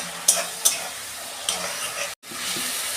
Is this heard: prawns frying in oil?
yes